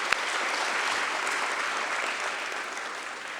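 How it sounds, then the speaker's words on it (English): Steady, dense applause from an audience at a BSE stock exchange listing ceremony for Monarch Surveyors & Engineering, a continuous even wash of many hands clapping without pause. "Let's have a round of applause for BSE team."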